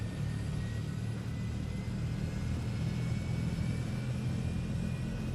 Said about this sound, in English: now you can finally hear an engine